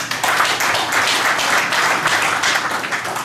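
Board members at a Songpa-gu chamber of commerce meeting in Seoul clap together to approve an agenda item, a steady, dense round of applause from a small indoor group lasting a few seconds.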